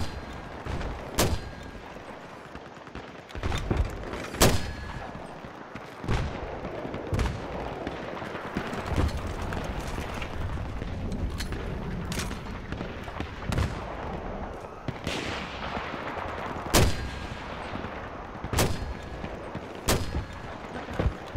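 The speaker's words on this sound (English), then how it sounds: "You're not using mortar next to me, are you?" Repeated gunfire and heavy mortar blasts in Battlefield 3 on the Noshahr Canals map during a team deathmatch, sharp irregular cracks and booms over a constant battlefield rumble.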